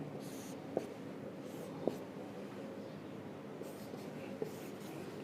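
Marker or chalk drawing electric field lines on a board during a physics lecture on electric potential, heard as a few faint, brief strokes and taps over a steady low room hum.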